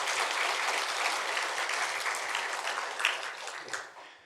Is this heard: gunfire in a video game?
no